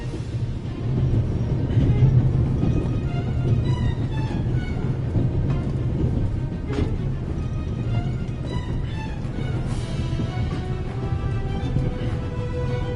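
Steady, dense train rumble from a running locomotive in The Raven video game, a continuous low rolling drone with faint metallic clanks and squeal-like tones over thirteen seconds, no voices.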